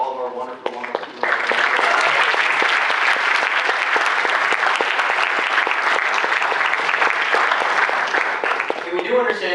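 Sustained applause from an audience at a student government senate honors ceremony, starting after a brief moment of talk and continuing loud and steady for several seconds before fading back toward voices.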